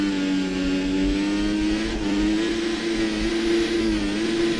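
An F1 car engine in the F1 2014 video game screams at a high, steady pitch with slight wavering as the wheels spin, loud and continuous with no voice over it.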